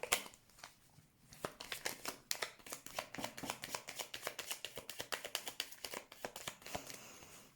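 Tarot cards are shuffled close by, a steady run of crisp riffling snaps and soft papery slaps that comes in a rapid, slightly uneven rhythm, quiet and with no voice over it.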